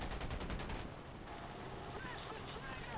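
Browning .50 caliber machine guns of a P-51D fire in the War Thunder video game, a rapid loud burst of rattling shots in the first second, then a steady rushing roar of wind and engine.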